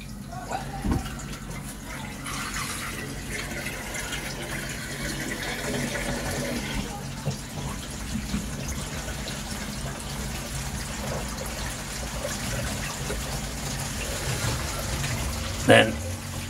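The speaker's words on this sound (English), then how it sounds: "I'll fill this tank up again halfway with pond water" Pond water pours into a koi filter tank, a faint continuous rush with a brief splash near the end.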